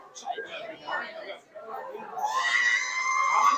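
An R2-D2 droid replica robot at a cosplay expo plays its electronic scream, a rising shrill warble swelling over the last second and a half after brief chatter and voices nearby.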